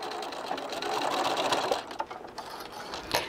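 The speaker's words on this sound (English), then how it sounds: "I'm basically going to be stitching just a little bit past my previous stitches. And back stitch." A sewing machine runs steadily at a fast whirring pace while back stitching fabric for a dog bone neck pillow. It then slows into a few short bursts and stops, close and with no talking.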